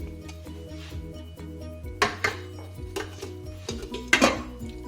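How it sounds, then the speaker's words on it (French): A pan lid lifted and set down during lilac syrup making, giving a few ringing metallic clinks and clatters over a low steady hum, close by and without speech. "Je prends un couvercle."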